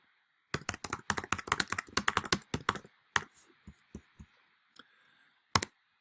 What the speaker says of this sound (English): So you have the chat here where I can type something in the chat.